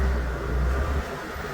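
Honda Activa scooter pulling out of a housing society parking lot, a steady low engine hum that drops slightly after a second, close and alone.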